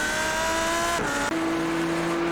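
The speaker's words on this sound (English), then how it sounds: "That is precision braking from Rick Barrow." A GT3 race car in the iRacing sim at Zolder brakes hard into a corner. A high engine note drops sharply with a brief squeal of tyres, then settles into a lower steady tone.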